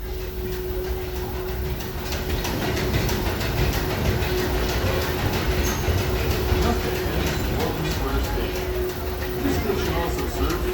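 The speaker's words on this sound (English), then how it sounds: "please remain seated until the train comes to a complete stop" Disneyland Railroad train rolling along the rails, a steady loud rumble with a constant tone and faint rhythmic wheel clatter throughout, while a recorded announcement voice plays over it.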